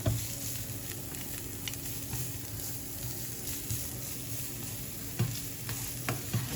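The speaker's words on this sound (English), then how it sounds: "putting in the garlic and other things like that into the oil" Garlic frying in oil gives a close, continuous sizzle with stirring scrapes and occasional louder pops, no voices over it.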